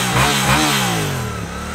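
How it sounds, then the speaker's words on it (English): A stock Suzuki GSX-8S motorcycle engine under heavy acceleration, its note rising through revs, loud and close with a smooth, fairly subdued exhaust and no talk. "The Suzuki though is much quieter, both at the exhaust but also in the cockpit as well, where it really doesn't liven up that much even under heavy acceleration"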